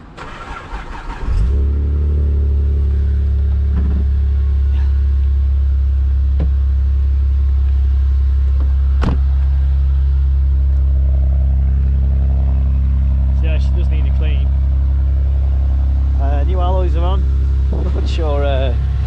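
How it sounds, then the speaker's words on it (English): Cold start of a Vauxhall Vectra VXR fitted with a hybrid turbo: the engine cranks and catches, then settles into a steady, loud, close idle rumble, with brief voices talking over it near the end. "It's going to be a cold start, this."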